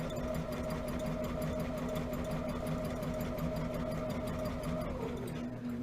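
A sewing machine runs a continuous straight stitch at 2.5 stitch length with a 1/4 inch seam for quilt piecing, a steady loud mechanical whir and rapid needle chatter close by throughout.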